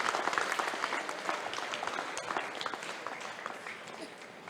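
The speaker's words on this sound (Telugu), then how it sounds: "ఇంకొకసారి గట్టిగా చప్పట్లు కొట్టొచ్చు సార్." Audience applause at a classical dance academy anniversary event, a dense burst of clapping from a large seated crowd that starts strong and gradually thins out over a few seconds.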